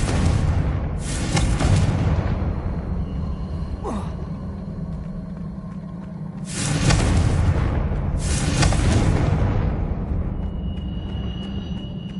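Confringo blasting spell in Hogwarts Legacy going off in two loud, broad explosive bursts a few seconds apart, each with a booming low rumble that lingers over a steady background drone.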